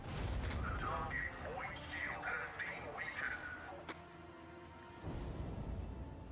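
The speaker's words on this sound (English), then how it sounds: "I love how, like, dinky, like, that cannon sounds" A cannon in a video game fires with a small, thin pop, one sharp report partway through, under a person talking over game sounds throughout.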